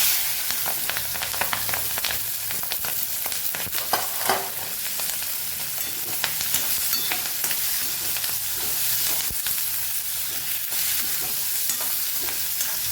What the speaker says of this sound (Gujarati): હવે આપણે જે ટીંડોળાના મરચાં સુધારેલા છે એને આપણે સાતડી લેશું તેલમાં